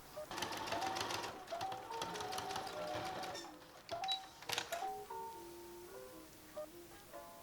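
A sewing machine topstitching down the folded edge of dress straps runs in bursts of rapid mechanical stitching, near and clear, with brief pauses and faint handling sounds between runs.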